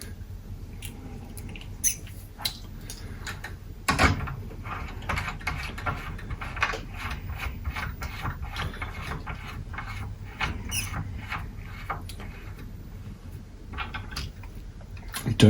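Small screws are tightened by hand into a Schiit Yggdrasil USB board, giving faint ratcheting clicks and light mechanical ticks over a steady low background hum.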